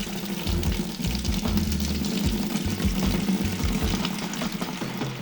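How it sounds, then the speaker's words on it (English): A bucket being filled with hot soapy water, a steady gushing pour with a low, pulsing rumble underneath, continuous and close. "you're going to need to fill that bucket with hot soapy water"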